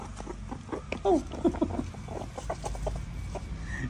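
A meerkat gives a short run of soft, hen-like clucking calls, resembling a mother hen with chicks. The calls are close and brief, over a low, rumbly background.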